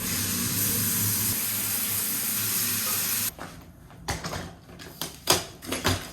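A bathroom tap runs in a steady loud hiss while washing up for bed, then shuts off abruptly, followed by a few light clatters and knocks at the sink.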